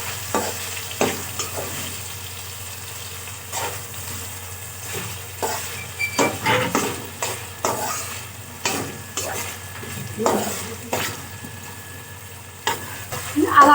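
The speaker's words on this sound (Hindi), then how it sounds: "अब हम इन्हें भी फ्राई कर लेंगे मिर्च को।" Chilies and tomatoes fry in a pan for a Navratri fasting dish, giving a steady soft sizzle broken by irregular scraping and stirring clatters from a spoon, close and fairly quiet.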